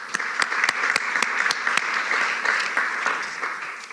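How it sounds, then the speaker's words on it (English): A small conference audience at a humanitarian energy event applauds the presenters: sharp, distinct individual claps ring out in an uneven rhythm over a softer bed of scattered clapping, close and fairly loud. "And so we give them a round of applause right now."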